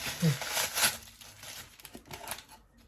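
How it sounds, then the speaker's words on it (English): Plastic box wrapping being pulled off a Guardians of the Galaxy Groot toy package, brief close crinkling and tearing bursts in an uneven rhythm, with a faint voice briefly underneath. "And that's box wrapping for the stuff here too. Unwrap."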